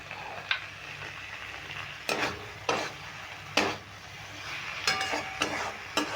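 A spoon stirs nuts into a frying vegetarian dish of elephant foot yam stalks and chickpeas, giving a soft sizzle under a series of sharp scrapes and clinks against the pan at irregular intervals.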